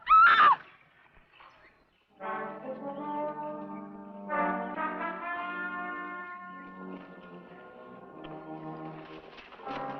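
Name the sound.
horse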